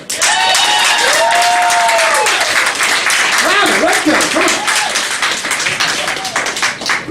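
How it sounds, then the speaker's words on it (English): Comedy club audience at Cafe Diem in Richmond, Virginia, applauding a comedian, loud continuous clapping mixed with cheering and whoops throughout, with a few voices calling out over the crowd. "can we start a round of applause for Mr. Bill Metzger?"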